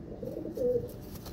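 A pigeon cooing softly in one low, brief murmur up close during leg banding.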